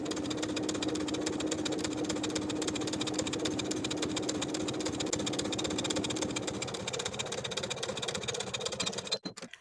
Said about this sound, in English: edge stitch close to the upper inner fold all the way across to create a casing